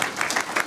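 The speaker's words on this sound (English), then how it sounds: "Give him a round of applause." A short burst of applause from a comic convention panel crowd, steady clapping filling the room with no voices.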